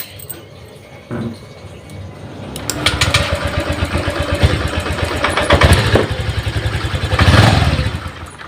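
A Honda Vario 125 scooter with an intermittent stalling fault and weak fuel injector or pump supply is switched off and restarted. A few clicks come first, then a close engine fires up and idles with a rough, pulsing putter that swells near the end.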